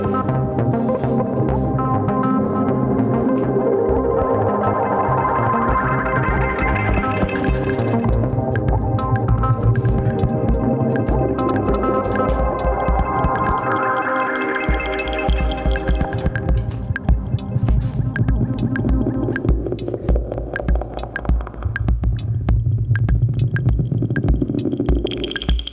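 Drums processed through a Hologram Electronics Microcosm effects pedal, smeared into a throbbing, humming wash with sweeping pitched layers and faint regular ticks, loud and continuous for the whole stretch with no voices.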